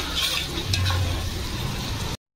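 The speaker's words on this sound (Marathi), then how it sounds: "मिरची, लसूण चांगली लाल झाले तेलामध्ये" Chillies and garlic frying in hot oil for a tadka, a steady close sizzle with faint clinks, running for about two seconds before cutting to silence.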